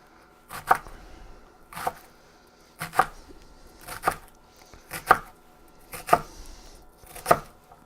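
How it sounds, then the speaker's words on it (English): A knife chopping Napa cabbage leaves into a rough chiffonade on a cutting board, seven or so crisp, evenly spaced cuts, close and clear. "I'm going to dice up 3 Napa cabbage leaves"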